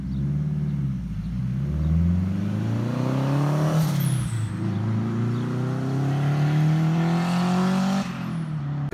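A turbocharged Honda S2000 accelerates on a street with a loud, rising engine note that climbs through the gears, broken by a few brief shift dips, and the hard pulling continues close by throughout.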